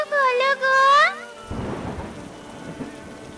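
Cartoon rain pours steadily on surfaces after a brief tonal sound effect, a dense even patter of raindrops as part of a thunderstorm scene, close and fairly loud.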